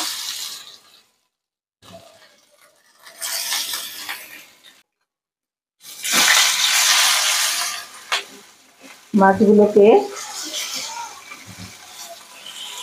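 Hilsa fish fillets coated in turmeric fry in hot mustard oil, bursts of crackling sizzle that come and go with quiet gaps between as the pieces are moved and turned, plus a short spatter and clink near the end.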